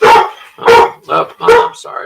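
A nearby dog barks several times in a quick, uneven series, each bark loud and sharp with short pauses between.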